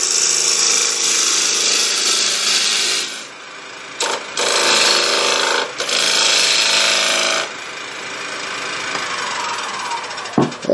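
A tool cuts deeper into a punky wood blank to form a rim, a loud continuous rasping shear that breaks off briefly several times, then resumes and fades toward the end.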